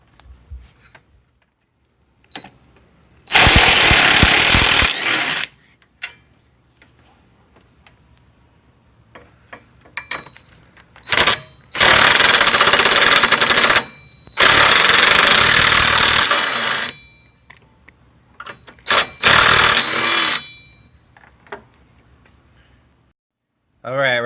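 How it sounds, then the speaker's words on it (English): Power tool driving out the 10mm battery hold-down bolt on a GMC Terrain: several loud, close bursts of rapid impact rattling lasting one to two seconds each, separated by quiet pauses with light clicks. "So let's go ahead and remove that bolt."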